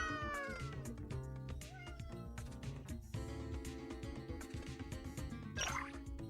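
Cat meows in the Hidden Cats in Istanbul video game, a few clear cries rising over a busy, steady game music bed, with no voices present.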